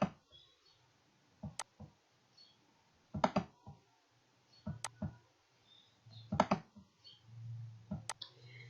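Computer mouse clicking during GeoGebra drawing work, several sharp isolated clicks spaced irregularly over quiet room hum.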